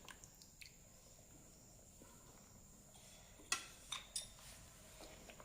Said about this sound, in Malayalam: ഇനി നമുക്കിത് നന്നായിട്ടൊന്ന് കലക്കിയെടുക്കാം